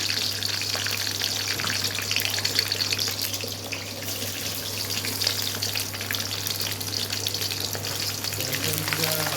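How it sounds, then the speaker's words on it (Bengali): Cumin, dried chilli, bay leaf and garlic frying in hot oil in a kadai, a constant close crackling sizzle with an underlying low hum, no pauses throughout. "কড়াইতে তেল গরম করে জিরা সম্বারা দিয়ে, শুকনো লঙ্কা সম্বারা দিয়ে, তেজপাতা সম্বারা দিলাম, রসুনগুলো দিয়ে দিলাম"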